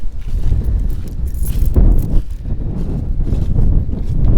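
Steady gusty wind buffets the microphone outdoors on open acreage, a continuous low rumble with rising and falling surges throughout, no other sounds standing out.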